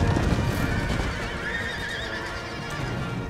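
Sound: horses neighing in cavalry battle, Empire: Total War video game

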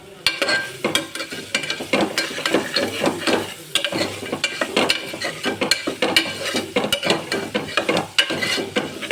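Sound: stirring onions and potatoes frying in oil

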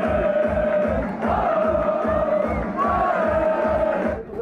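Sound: crowd cheering at Urk harbour championship celebration

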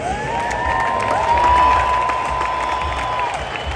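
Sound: crowd applauding and cheering at Dodger Stadium

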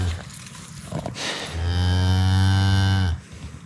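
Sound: Highland cattle mooing on a pasture

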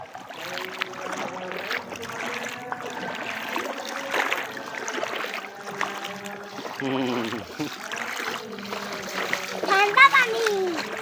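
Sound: child walking and splashing through water

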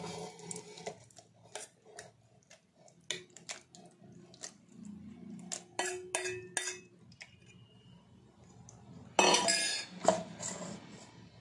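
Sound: mango pieces put into mixer jar

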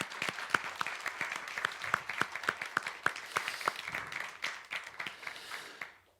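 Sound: congregation applause for students advancing grades

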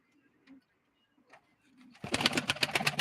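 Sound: pigeon cooing at a live pigeon auction

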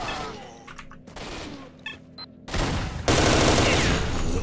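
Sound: gunfire in the video game S.T.A.L.K.E.R.: Shadow of Chernobyl

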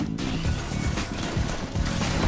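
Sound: Graves shotgun shot in League of Legends video game

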